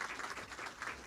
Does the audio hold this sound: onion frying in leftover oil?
no